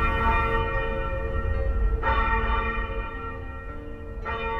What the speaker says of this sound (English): you could hear the bell ringing as it went downstream.